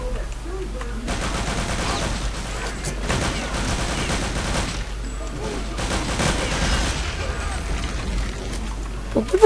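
Rapid gunfire rattles continuously in the shooter game Return to Castle Wolfenstein, dense repeated shots at steady loudness with brief pauses, amid game ambience.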